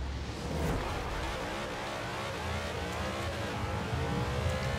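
A 2019 Zenvo TSRS hypercar accelerates hard in a Forza Horizon drag race, a loud continuous engine roar climbing through the revs with no voices.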